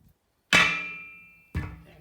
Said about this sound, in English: If that doesn't work, then I'll whale away with it with this tire hammer.